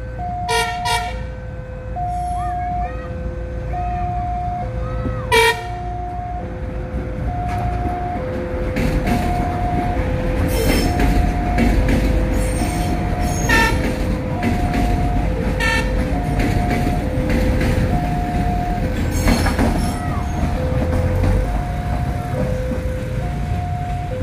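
A train rolls past a railway signal house north of Sidoarjo station in Indonesia, a loud continuous rumble of wheels and cars with a repeated two-tone horn sounding through much of the pass.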